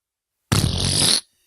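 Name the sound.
mouth imitation of a fart noise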